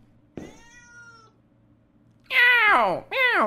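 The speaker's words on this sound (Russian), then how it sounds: "Это всего лишь котик" In the horror game Akai Onna, a cat gives a faint short mew, then two loud, drawn-out meows close up, with a brief gap between them.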